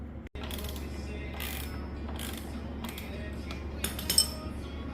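Ratcheting and clicking of a hand tool sounds up close while a bolt is worked loose to take off a snowmobile ski, with light metallic taps and clinks over a low steady hum and no voices.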